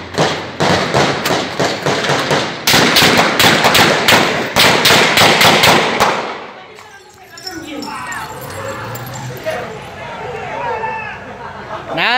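Rapid bursts of gunfire ring out at a border crossing as a truck driver is shot, loud repeated cracks in clusters for several seconds, then stopping as excited voices and chatter take over.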